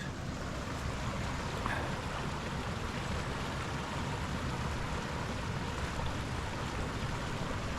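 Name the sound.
high lake water flowing over a creek bank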